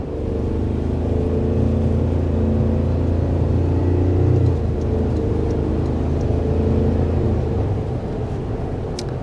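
The engine of a 2025 Toyota Tacoma Limited pickup truck accelerates with a loud, beefy, continuous rising drone, close and sustained throughout.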